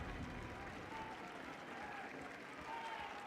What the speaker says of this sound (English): Why is there a cheer?